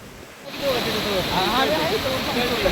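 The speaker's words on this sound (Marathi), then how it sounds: "धबधब्याचं अथांग असं स्वरूप पाहून धावतच त्याच्याकडे सुटलो" Rautwadi waterfall at Radhanagari, Kolhapur roars in a steady, broad wash of falling water that surges in after half a second and stays loud and constant, with faint voice-like tones drifting over it.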